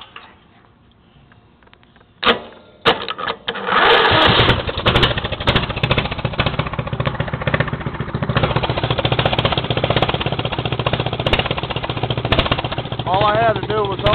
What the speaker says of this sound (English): I had to do was open the throttle a bit. Hopefully once it warms up, it'll be able to idle by itself.